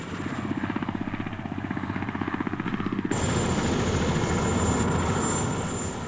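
Loud, rhythmic thumping of helicopter rotor blades, shifting midway into a louder roaring engine whine as the aircraft passes close overhead.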